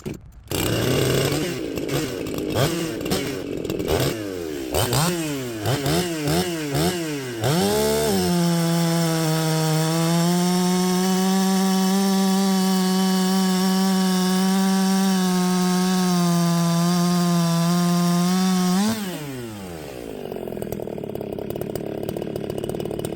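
Chainsaw running a freshly square-filed .325 chain, revving in short bursts before settling into a long, steady, loud cut through wood, then dropping back toward idle at the end.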